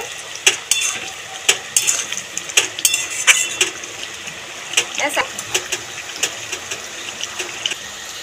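A spoon scraping and clinking in a pan of pumpkin and potato curry with sugar, irregular knocks and scrapes over a soft sizzle, close up; a voice is faintly present.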